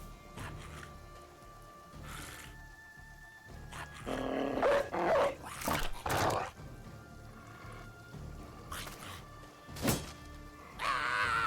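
A war dog in the video game Battle Brothers growls and barks in several sharp bursts over a quiet game background, the barks clustering mid-clip and returning near the end.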